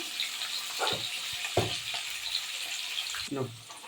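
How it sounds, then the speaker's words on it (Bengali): Onion and capsicum frying in a pan, a soft continuous sizzle punctuated by a few scraping stirs of the spatula, fairly quiet with no talk over it. "তো পেঁয়াজ ক্যাপসিকাম এরকম ভাজা ভাজা হয়ে গেছে"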